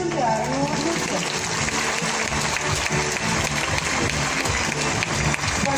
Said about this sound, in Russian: И ваши аплодисменты, а не улыбки.